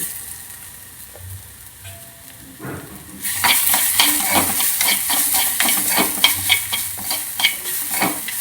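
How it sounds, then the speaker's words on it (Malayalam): Kerala roasted chammanthi of onion, salt and chilli powder goes into a hot pan partway through, and a loud sizzle starts with brisk, rhythmic stirring and scraping that carries on to the end. "ഇതിലോട്ട് ചായച്ച് വെച്ച ചമ്മന്തി ഇട്ട് കൊടുക്കുക"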